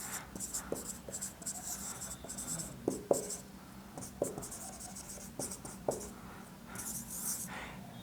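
Chalk or marker writing a sentence on a classroom board, with scratchy strokes and taps in an irregular rhythm, close and fairly faint against a soft room background, with no talking.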